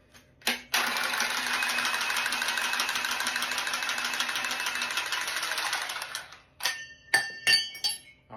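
Milwaukee M12 cordless pipe cutter cutting 28mm pipe: a steady, close motor whine running for about five seconds, then tapering off, followed by several sharp metallic clicks and knocks.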